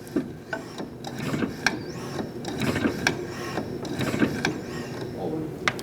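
Brake pedal repeatedly pumped on a 2004-2012 Chevrolet Colorado during brake master cylinder replacement and bleeding, giving a run of sharp mechanical clicks and creaks at an uneven rhythm over a low background rumble, with faint voices.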